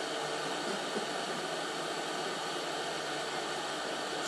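Heat tool blasting hot air at about 480 degrees onto a small plastic cup holder mount clip held in a vise, a loud steady broadband hiss like a hair dryer running continuously at close range with no talk.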